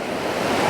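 Atlantic Ocean surf washing onto a long beach at Playa del Inglés, Gran Canaria, a steady broadband roar of breaking waves with some wind buffeting, continuous and fairly close.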